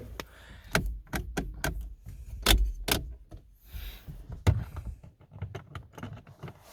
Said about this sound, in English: all the buttons are all like nice 90s like clicky